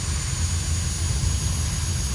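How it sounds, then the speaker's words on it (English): Learjet 45 jet engine in Flight Simulator X lighting up, a steady low rumble with a constant high whine above it, loud and unbroken throughout. "Engine has fired."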